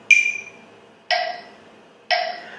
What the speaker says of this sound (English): Let me put the metronome on.